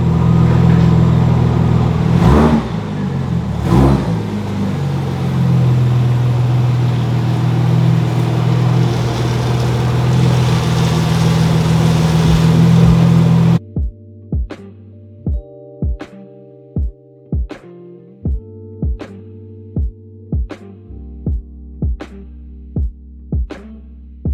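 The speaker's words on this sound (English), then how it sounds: "So move the Audi over to the center, get a little more room." An Audi S4 engine idling and running steadily as the car is moved, a continuous low hum for about thirteen seconds that then gives way to a series of regular sharp clicks or ticks.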